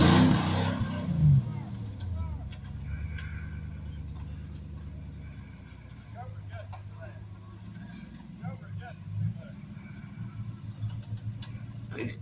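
A full-time four-wheel-drive off-road vehicle climbs a lower rock garden at Black Mountain, its engine rumbling steadily with occasional revs and loud bursts, while people talk over it throughout.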